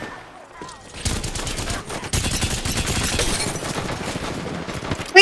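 Rapid sustained gunfire from Apex Legends rattles continuously, loud and close with dense overlapping shots and a burst of heavier fire, with a brief voice at the start.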